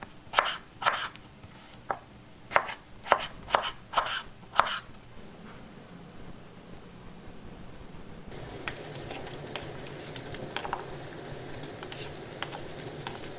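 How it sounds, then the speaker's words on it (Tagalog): Peeled potatoes being cut into cubes for a pork ginamay dish: about eight crisp, uneven knife strikes on a cutting board, then quieter kitchen noise with light clatter and no talking. "Pagkatapos nabalatan ito, hiwain natin siya into cubes."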